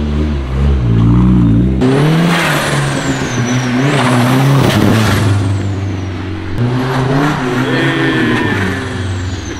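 Engine of a rear-wheel-drive Honda Civic starting and running loud and close, with repeated revs rising and falling and a high turbo-like whine over the rumble.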